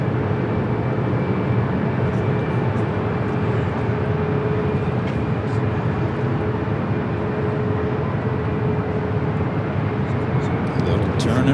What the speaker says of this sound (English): A little turn and burn for the A380.